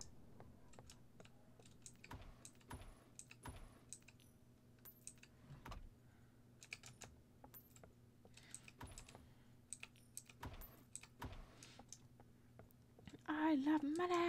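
Rapid, clicky computer keyboard typing in uneven bursts, fairly quiet and close, followed at the end by a brief voice.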